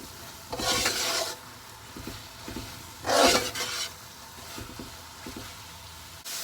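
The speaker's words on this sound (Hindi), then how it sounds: "सो हम ऐसी हालत में आग थोड़ी सी तेज़ करके मीडियम पे इसे भून लेते हैं।" Lamb mince with capsicum frying on medium heat, with two loud bursts of sizzling as the pan is stirred and scraped, and softer intermittent scraping and sizzle in between.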